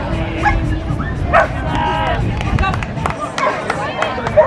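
Trained service dogs playing outdoors bark and yip in quick bursts, with scampering and a whimper, close and lively while people talk in the background.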